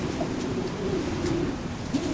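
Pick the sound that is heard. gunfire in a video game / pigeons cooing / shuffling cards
pigeons cooing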